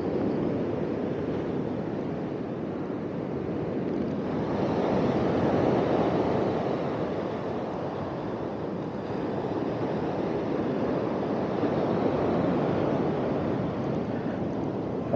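Sea waves breaking with wind at a seaside caravan area in Torrox, a steady loud wash of surf swelling and easing, with gusty wind noise throughout and no voices.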